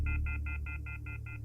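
Telephone left off the hook emits a steady series of about eight evenly spaced electronic beeps over a low background hum, close and clear.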